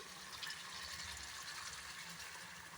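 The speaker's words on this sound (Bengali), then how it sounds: "পুরো জলটাই দিয়ে দিলাম।" Boiled hot water is poured into a pot of cooking chicken, giving a steady, close, broadband splashing gush that runs without break from start to finish.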